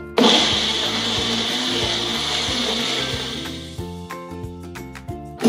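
A blender whirs loudly as it mixes frozen strawberries, frozen bananas, sugar and milk, a steady high grinding drone with a pulsing low motor tone that later turns choppier with rattling clicks near the end.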